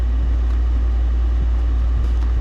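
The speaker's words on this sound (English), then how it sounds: "One day it's heat, one day it's air conditioning around here." An indoor air conditioning or heating unit drones steadily and loudly, a constant low rumbling hum with no change across the clip.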